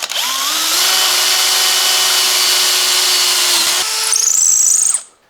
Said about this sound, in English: I'm going to drill right through my neck pocket into the P90 space